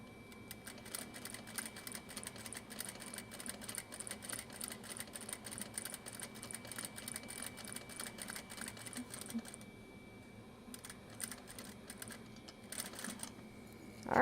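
A sewing machine runs back stitching in a steady, rapid needle rhythm close by, pausing briefly near the end before a few more stitches, with no talking.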